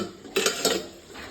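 Chicken frying in a pan being stirred, with two sharp scraping clinks of a utensil against the pan over a soft background sizzle, close by.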